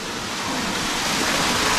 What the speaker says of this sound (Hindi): आवाज़ आ रही है पानी की